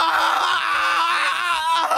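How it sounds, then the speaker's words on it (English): An anime character lying on the ground screams in pain in a continuous, strained, high-pitched cry that holds loud and close for two seconds with no other talk. "Goku starts screaming on the ground in pain."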